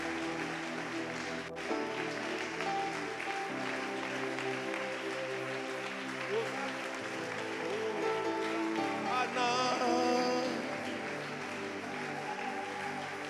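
A church congregation applauds and cheers in acclamation of Jesus, a dense, steady wash of crowd noise that holds for the whole stretch and swells slightly near the end.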